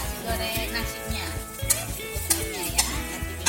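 Rice stir-fried in a pan for Hong Kong-style nasi goreng, with brief scraping and clinking of a spatula over a soft sizzle, partly masked by rhythmic background music.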